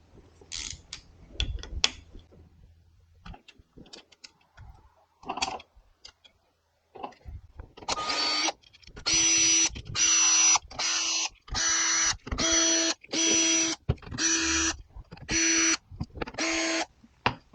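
Impact gun loosening side cover bolts on a 2002 Suzuki GS500 engine, about ten short loud rattling bursts in a steady rhythm, after some quieter clinks and handling noises at the start.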